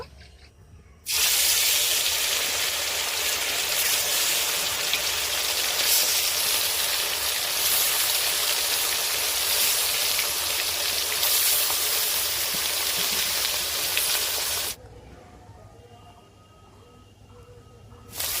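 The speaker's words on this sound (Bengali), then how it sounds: "তেলটা গরম হয়ে গেছে, এবারে মাছগুলো ভেজে নেব।" Pieces of rohu fish, cut from a 2.4 kg fish, hit hot cooking oil with a sudden loud, steady hiss that holds for about fourteen seconds and then cuts off abruptly to a quieter background.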